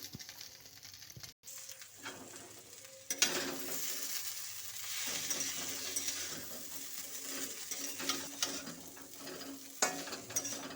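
Maggi noodles stir-fried in a pan with fried egg, mixed vegetables and cauliflower, heard as a sizzle with repeated spatula scrapes and clacks close by, and a short gap near the start.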